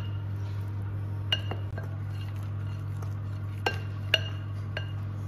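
Spoon clinking against a bowl while cookie dough is stirred, a few sharp scattered taps over a steady low hum.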